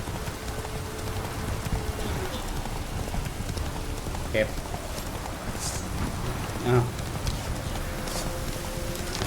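Horse hooves clip-clop steadily in The Witcher 3: Wild Hunt while someone talks over the ride, with the rhythmic hoofbeats running under speech alongside a patter like rain.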